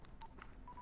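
A phone call in the Dying Light video game starts with a few faint, short electronic telephone tones in quick succession under low background noise.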